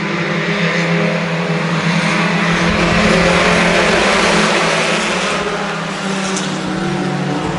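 Race cars roar around a short track during a Flatlander Special qualifying night, a loud sustained engine drone that swells as a pack passes and then recedes slightly, with no talk.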